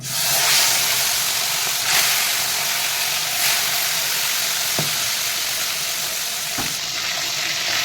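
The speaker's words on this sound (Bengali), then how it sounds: "তেল গরমও হয়ে গেছে আমি মাছগুলো ভেজে নেব" A loud, dense, continuous sizzle of koi fish (climbing perch) frying in hot oil fills the whole stretch, with a few faint clicks and taps, no talking.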